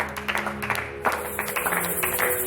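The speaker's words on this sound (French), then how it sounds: "Donne gloire à Dieu par des acclamations." A church congregation claps and acclaims during a worship service, a brisk wash of hand claps layered over soft sustained music.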